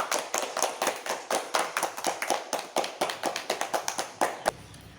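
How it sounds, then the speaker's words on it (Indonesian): A small group in a classroom claps hands for a group of students, a quick, uneven run of sharp claps close by that stops abruptly near the end. "Oke, beri tepuk tangan untuk kelompok 1."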